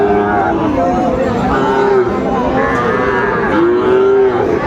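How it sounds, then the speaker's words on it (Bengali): Cattle at a farm raising breeding bulls moo in long, loud, drawn-out calls, several overlapping one another close by, over a busy background of people talking. "বেলাল ভাই গরুগুলো একটু সুন্দরভাবে দেখান তো আমাদের"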